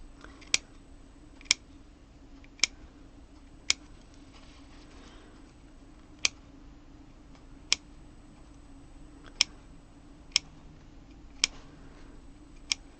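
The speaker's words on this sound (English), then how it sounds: "I'm going to come and snip that out" Scissors snipping out stitches, about ten sharp crisp clicks in an irregular rhythm, close and clear over a quiet background.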